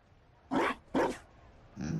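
Two short, loud dog barks about half a second apart from a dog in Dragon Age: Inquisition, followed by a softer whine-like sound at the end over faint game ambience.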